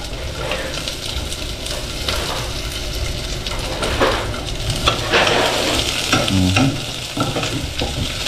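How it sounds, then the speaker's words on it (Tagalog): Garlic sautés in hot cooking oil in a pan for chicken adobo, a steady close sizzle with intermittent stirring and scraping, a few sharper clinks near the end, no talking. "Maglagay na po tayo ng mantika. Gisa na po natin yung ating bawang."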